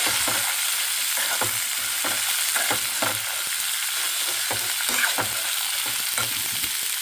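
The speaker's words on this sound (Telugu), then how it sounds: "ఆనియన్స్ కూడా ఫ్రై అయిపోయినాయి. మనం ఉడికించుకున్న శనగలు వేసుకుందాము. మొత్తం ఒకసారి కలుపుకుందాం." Boiled chickpeas and onions fry in a pan while being stirred, with a steady close sizzle and hiss underneath repeated soft scraping strokes, loud and continuous with no voices.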